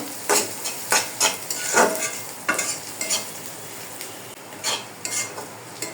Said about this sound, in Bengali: আমি কিন্তু এই পেঁয়াজটা নাড়ার মধ্যে রেখেছি।